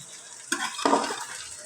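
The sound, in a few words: rice being sautéed in oil in a pot for khichuri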